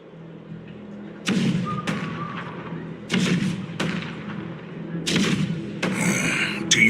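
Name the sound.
rumble of cannons firing in a video game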